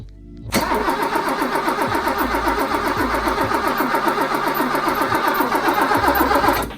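A BMW E30 engine cranks without starting, the starter motor spinning in a loud, fast, even chugging rhythm that runs on for about six seconds close by, with no talk.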